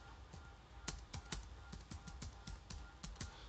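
Steady, fairly quick typing on a computer keyboard while entering terminal commands, with crisp individual key clicks in an irregular rhythm against a low background hum, no talking.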